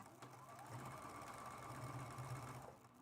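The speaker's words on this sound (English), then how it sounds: "I'm going to start stitching again, and I'm going to do some back stitches to lock that in place." A sewing machine stitches a quilted mug rug, running in one quiet, steady whir for a few seconds before it stops.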